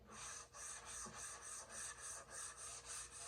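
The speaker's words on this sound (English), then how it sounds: "So I just like to give it a really light sand." Light hand sanding of painted furniture before a top coat, heard as a steady back-and-forth rasp in even strokes, close and quiet with no talking.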